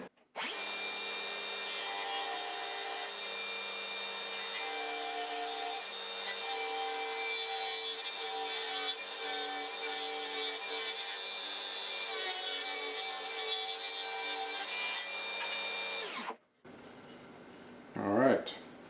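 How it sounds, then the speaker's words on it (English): A table saw trims a small edge off a wooden piece, running as a loud continuous whining cut for about sixteen seconds before abruptly stopping, followed by a brief clatter. "I'll go to the table saw and take off that little bit of material first"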